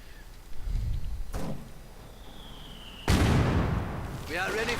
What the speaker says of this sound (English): mortar rounds are flying in from both sides now